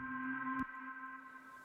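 A short reversed sound effect at the end of a section of an electronic track: steady sustained tones swell and cut off with a sharp swoosh near the middle, then a quieter held tone lingers alone.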